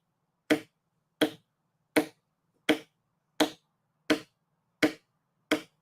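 Eight sharp, evenly spaced taps, about 0.7 seconds apart, imitate a normal, steady heartbeat. They sound close and crisp against silence.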